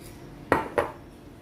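A spoon or whisk knocks against a bowl while banana cake batter with pinipig is stirred, giving two quick, faint clinks in an otherwise quiet moment.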